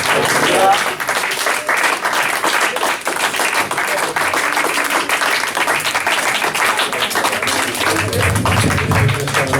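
Applause from a congregation at a morning worship gathering, a loud sustained roar of clapping that fills the space without a break, with voices mixed in beneath it.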